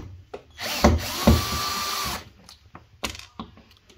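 A power drill drives screws while an integrated fridge is removed from a kitchen unit, running in one loud sustained burst with sharp ticks, then quieter clicks and short bursts follow.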